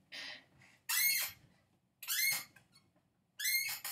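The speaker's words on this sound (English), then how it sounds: "my chair squeaks as well" An office chair squeaks in three sharp, high-pitched bursts spaced about a second apart, close and fairly loud, with no talk during them.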